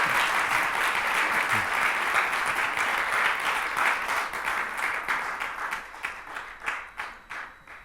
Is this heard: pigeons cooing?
no